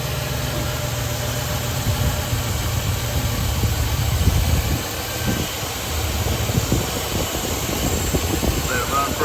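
A 2013 Chevrolet Silverado engine idles steadily after its spark plugs, plug wires and heat shields were replaced. It gives a continuous low rumble with a slight vibration, close and fairly loud, over other background sound.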